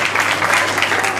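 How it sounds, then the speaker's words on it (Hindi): Audience clapping at a school Independence Day stage show, a steady dense patter of many hands filling the short moment without pause. "तो जोरदार तालियों से स्वागत कीजिए"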